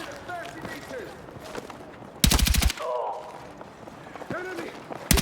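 A rapid, loud burst of automatic gunfire in Battlefield 6 during a night raid, with a short second burst at the end, while soldiers shout over the fighting.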